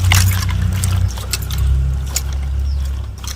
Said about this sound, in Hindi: पानी को भी हम डालते हैं कढ़ाई में